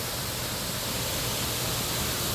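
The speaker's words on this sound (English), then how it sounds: "But check out how beautiful this waterfall is" Waterfall at Wilson Dam, a steady broadband roar of falling water filling the whole clip without a break, loud and close, with no voices over it.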